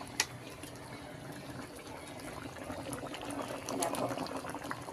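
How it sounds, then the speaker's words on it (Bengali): Bengali fish curry with potatoes bubbles in a pot, a steady, moderately loud simmering hiss with scattered small pops and crackles that grows slightly busier toward the end. "দেখো, ঝোল ফুটছে, মাছ দেওয়া হয়ে গেছিলো, মাছের ঝোল ফুটছে"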